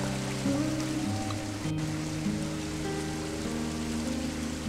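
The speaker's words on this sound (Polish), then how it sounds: "bo mi tutaj wodospad hałasuje" A waterfall in the video game Risen makes a continuous, rushing wash of water noise at even loudness, with faint tonal game sounds layered on top and no talk.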